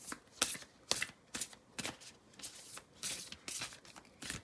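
Tarot cards being shuffled by hand in a quiet room, a series of crisp riffling bursts in an irregular rhythm, close and fairly soft.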